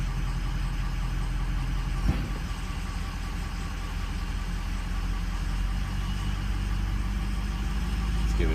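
A Ford engine idles in gear, a steady low mechanical hum that stays even throughout, with one brief louder knock partway through and no talking.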